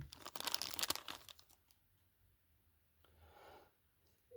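Crinkling and tearing of figure packaging being cut open during an unboxing, a close burst of plastic crackle early on, then quieter scraping and rustling.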